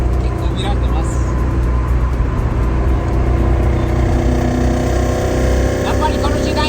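A Toyota AE86 with a 4AG-E 20V engine being driven: a constant, loud drone of the four-cylinder engine with cabin road noise throughout, voices talking over it.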